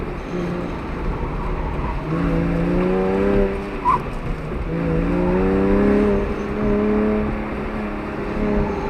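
A Porsche 911 launches hard on an autocross course, its engine climbing through revs in rising harmonic sweeps, with gear changes and a sustained drone on the gas, heard from inside the car at moderate loudness.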